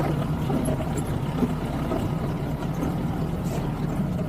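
A jeep on the rough Kodachadri mountain trail in the Western Ghats, its engine a steady low rumble close by with faint rattles, no talk.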